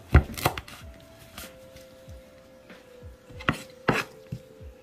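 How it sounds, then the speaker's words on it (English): A knife chops fresh thyme on a cutting board in quick clusters of sharp, close taps, a few bursts of two or three strikes with short pauses between. "Just doing some quick chops. And then you're gonna do the same thing with your thyme."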